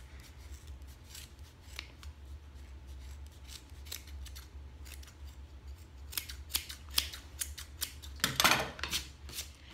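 Dull scissors snip through the edge of a handmade Dollar Tree hanging sign in a series of close, crisp cuts, the loudest and densest crunching near the end.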